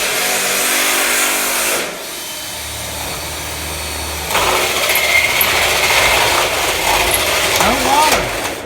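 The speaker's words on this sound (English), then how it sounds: "there's that thin wall hole saw bit. Just Start ripping through these little 14 gauge studs." A Milwaukee thin wall hole saw bores through 14 gauge metal studs, a loud whining power-tool drone that drops off partway, then resumes with rougher cutting noise near the end.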